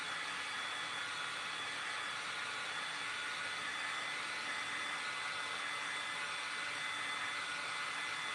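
A hair dryer blows a steady, broadband whoosh at close range while drying paint on handmade rustic carrot decorations, an even, unbroken roar with no talking.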